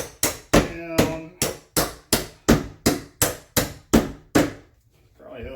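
Hammer blows drive a pin down into a door hinge, about eleven sharp, evenly spaced strikes in quick rhythm, loud and close, with a brief quiet pause and a faint rustle at the end.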